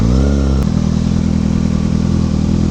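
A motorcycle engine idling close by, loud and steady with a low rumbling throb; a brief rising rev fades into an even idle.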